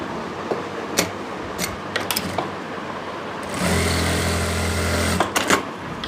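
A sewing machine runs a stitch line over elastic on the waistband of palazzo pants. A few light clicks and handling taps come first, then a steady mechanical whir for over a second before a couple of final knocks.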